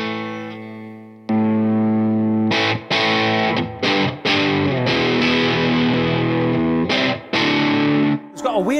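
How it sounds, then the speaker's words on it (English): Electric guitar played through a Twin 12 amp-in-a-box pedal modeled on the Sears Silvertone Twin 12, giving a bright, saggy, slightly broken garage rock tone; a short single note, then loud sustained distorted chords and strums alone. "this is a Twin 12, it's an amp in a box and it delivers this tone"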